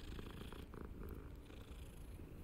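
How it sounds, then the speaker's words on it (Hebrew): A cat purrs in the video game Hogwarts Legacy, a soft continuous rumbling purr at night outdoors, faint and steady throughout. "מה החתול כזה עושה באמצע הלילה פה,"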